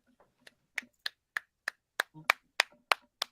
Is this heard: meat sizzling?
no